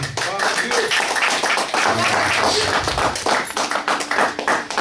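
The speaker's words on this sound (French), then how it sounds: "Applaudissez pour la gloire de Dieu." A church congregation at a Sunday service claps together, dense rapid hand claps filling the room at close range, with voices mixed in among the applause.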